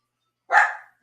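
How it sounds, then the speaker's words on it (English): A single sharp bark from a small house dog, either a teacup chihuahua or a poodle mix, rings out loud and close against silence. "They have a job, they protect the house, these dogs."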